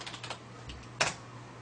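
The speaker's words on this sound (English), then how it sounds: "so now we're going to type in exit and hit enter" Typing on a computer keyboard produces a few light, close key taps, followed by one sharper keystroke like an enter press, over a faint steady hum.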